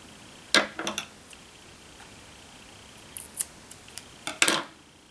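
Scissors snip through embroidery thread while making a hand-stitched tassel: two close bursts of crisp metallic snips, one early and a denser cluster near the end, heard alone in a quiet room.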